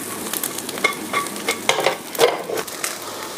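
Semi-prepared Cantonese fried rice stir-fried in a wok, with close sizzling and the rhythmic scrape of a spatula stirring and tossing, without talk.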